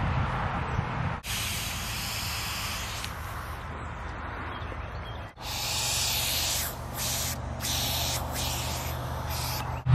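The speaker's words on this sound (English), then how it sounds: "I can hear air coming out." Air is blown by mouth through a car's EVAP carbon canister, producing a close, steady breathy hiss in two long bursts separated by a brief pause, with several short flutters in the second.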